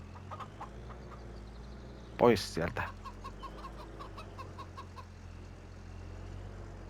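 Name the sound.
rooster clucking, Farming Simulator 25 video game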